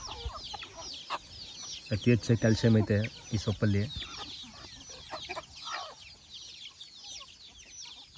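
Native country chickens eating drumstick leaves cluck in a quick burst of close, repeated calls, then give scattered softer clucks, while someone talks over them.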